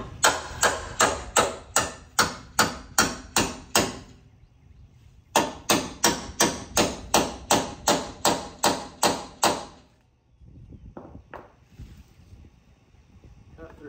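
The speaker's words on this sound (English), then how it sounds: "I'm gonna get a little chisel again." Small chisel struck repeatedly against plug welds on damaged car bodywork: two rapid runs of sharp, evenly spaced metallic taps over a low background hum, then a softer stretch of scraping and rumble.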